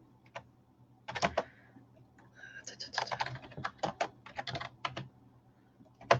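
Typing on a computer keyboard in a quiet room, with irregular bursts of close, crisp key clicks that come in quick flurries and pauses, and a low hum underneath.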